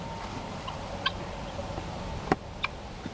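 Turkeys gobbling on a farm during a cold snap: a few short gobbles, faint to moderate, scattered over a soft background hum, with no talk.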